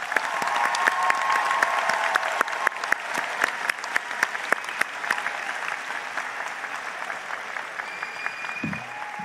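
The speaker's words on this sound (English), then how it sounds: "One more round of applause" A university convocation audience in Durham applauds graduates, sustained dense clapping with a few sharper individual claps standing out, steady and fairly loud before tapering slightly near the end.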